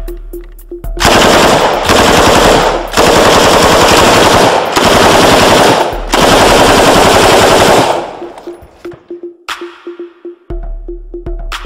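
A light machine gun fires full automatic at soda targets downrange in four long, deafening bursts of rapid shots, followed by separate single shots and echoing pauses, loud and close.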